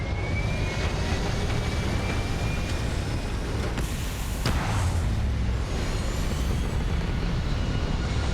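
A video game spaceship engine roars during takeoff, a loud, steady rumbling drone with a faint rising whine running through it that holds for several seconds, with no talking.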